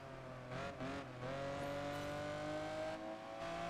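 Race car accelerating hard in Project Gotham Racing 4, a steady rising engine drone with climbing pitch and a brief gear-change dip, loud and continuous.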